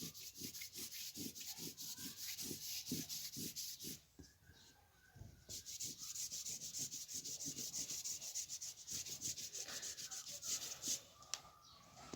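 Dry rhythmic rubbing of an eraser or duster wiping writing off a board during a class 11 maths lesson, a steady run of close strokes with a brief pause midway, no talking.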